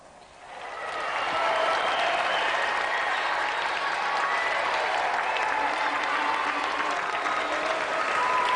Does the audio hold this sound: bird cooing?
no